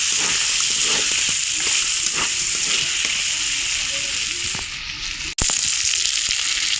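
Jackfruit seeds and thickly cut onion frying in hot oil in a pan, a loud steady sizzle with faint stirring clatter, close and continuous, briefly cutting out near the end before resuming.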